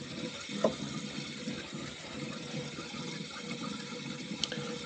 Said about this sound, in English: You're going to hear water going to the drain,